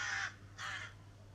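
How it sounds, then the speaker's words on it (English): Crows circling overhead give two short rough caws in quick succession, moderately close, over a low steady background hum. "The birds are circling."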